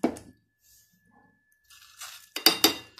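A spoon clinks against a container while a homemade orange vitamin C serum paste is mixed, giving a few sharp, close metallic taps near the end after a quiet stretch.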